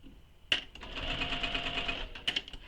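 A sewing machine stitches a shoulder bag in a short, quiet burst, the needle chattering rapidly between sharp clicks at the start and the end, close by and otherwise calm.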